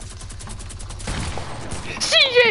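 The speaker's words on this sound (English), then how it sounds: "I headshot with the minigun" A minigun fires in a video game, a dense rapid burst of shots that stops abruptly partway through, followed by a brief voice-like sound.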